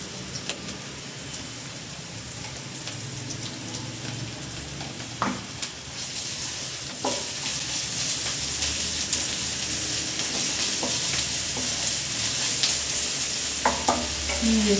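Green chillies fry over medium flame for gongura pulao, giving a steady loud sizzle throughout with occasional sharp stirring scrapes and clinks of a spatula against the pan.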